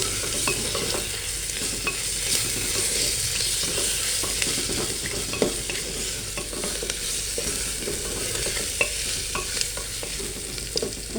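Egg biryani masala with turmeric and spices cooks in a pan, a soft continuous sizzle broken by occasional scraping stirs, close and steady with no talking.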